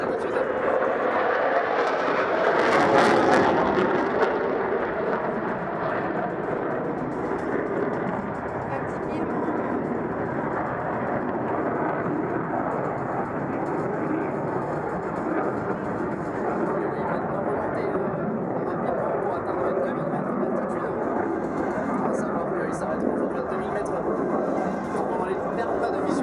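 A Mirage 2000 N jet makes a low-altitude pass over the runway at an air show, a loud roar that peaks early and then gives way to a sustained broad rushing drone, with a voice commenting over it.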